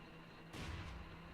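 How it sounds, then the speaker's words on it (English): A sudden deep boom bursts from quiet in the Nancy Drew: White Wolf of Icicle Creek game, an explosion at the bunkhouse, followed by a short rumbling tail and a second softer thump. "Explosion. That's definitely not good."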